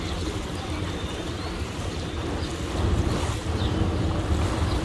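A tour boat on the San Antonio River picks up speed, water rushing and wind buffeting the microphone in a steady, loud wash that swells slightly near the end, with no talking.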